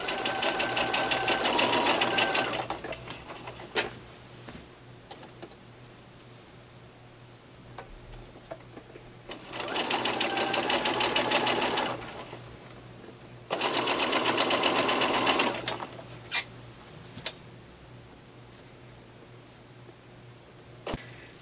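A sewing machine stitching a Halloween quilt-as-you-go block: three bursts of fast, steady mechanical whirring and ticking, each a few seconds long, separated by quiet pauses with small clicks and handling noises, close and clear.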